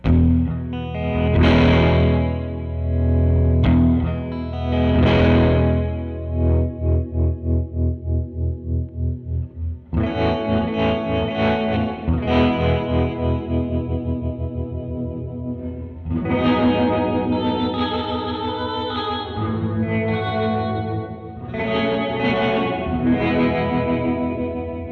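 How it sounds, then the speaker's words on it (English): An electric guitar runs through a Catalinbread Tremolo8 pedal in space mode, distorted chords and notes carrying a short reverb with tight trails, loud and close, alone with no talking. "And space is a reverb with tight trails."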